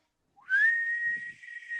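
Someone whistles a single rising note that settles into a long, steady tone, fairly clear and close, with faint low murmuring beneath toward the end.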